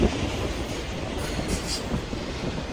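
A freight train rumbles steadily past nearby, a continuous heavy roar of rolling cars with faint clacking wheels.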